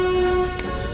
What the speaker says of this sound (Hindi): तो जल्दबाजी में ड्राइवर साहब ने 2 व्हिसल लगाए और ट्रेन मूव होना शुरू।